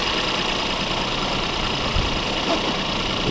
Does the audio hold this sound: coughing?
no